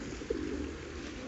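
Pigeons in a park garden cooing softly, a single low coo standing out briefly over steady outdoor background noise.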